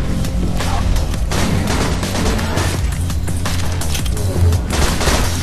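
Rapid bursts of nail gun fire and impacts in the video game Borderlands 2 during a co-op boss fight, loud and dense, repeating in quick volleys with explosive crashes mixed in.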